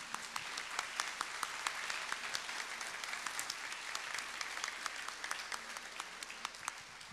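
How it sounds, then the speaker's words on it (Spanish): A crowd applauds steadily at a book presentation, dense clapping holding an even level from start to finish with no talking. "Un fuerte aplauso"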